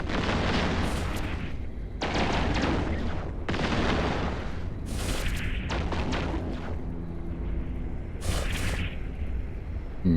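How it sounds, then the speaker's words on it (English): Ship weapons fire in the space game EVE Online during a combat engagement: heavy, continuous volleys of booming gunfire and blasts with sharp cracking peaks, loud and dense throughout. "He's now in range of my gunfire."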